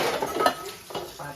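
Dishes and pots being handled in a home kitchen, with a short run of soft clinks and scraping knocks at close range and no talking.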